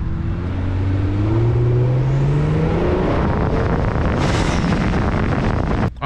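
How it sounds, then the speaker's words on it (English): A car's blow-off valve fitted with the stock trumpet, heard from outside the vehicle, gives a loud sustained engine note with rising tones, then a sharp burst of venting noise near the end. "that was the sound of the stock trumpet on the outside"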